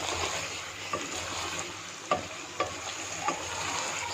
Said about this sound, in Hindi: अब इसको अच्छी तरह ना घी में भूनना है